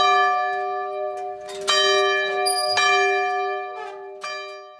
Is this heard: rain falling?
no